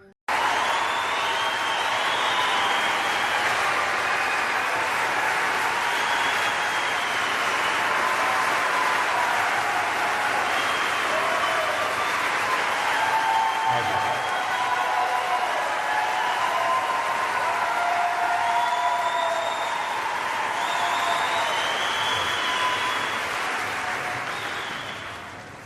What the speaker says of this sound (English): you hear the applause of the people